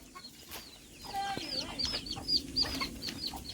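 Several chickens cluck nearby in short, scattered bursts, with a few higher squawks over a quiet outdoor background.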